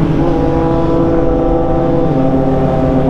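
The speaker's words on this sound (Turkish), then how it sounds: "Triumph Trident'imize egzozla yaptık ya. Müthiş oldu ya. Ses efsane arkadaşlar ya." A Triumph Trident 660 motorcycle fitted with an aftermarket exhaust drones loudly and steadily at close range at night, a deep sustained engine roar with no voices.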